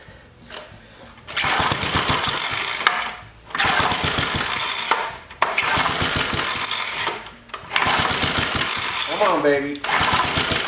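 Rare 1950s engine starting and running unmounted, loud rattling bursts that surge, cut out and restart several times, with a voice speaking briefly between runs.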